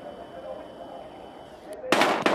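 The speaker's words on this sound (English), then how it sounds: "We've got gunshots." Gunfire in the video game Battlefield Hardline breaks out as sharp, loud bursts of shots at the end, after a steady low game ambience.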